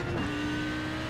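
Race car in the iRacing video game at Spa, its engine note dropping abruptly as a gear shift is missed, then holding a flat, steady drone, loud and close.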